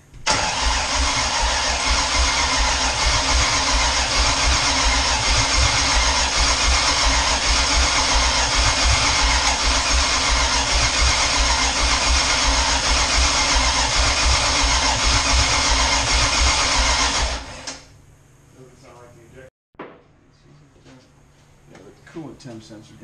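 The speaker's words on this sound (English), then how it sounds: "if it fires, I'm going to have to shut it down right away because it's going to be really loud" A 351 Windsor V8 engine fires up and roars loudly and steadily for most of the clip before shutting off, leaving quiet background noise and a few faint voices.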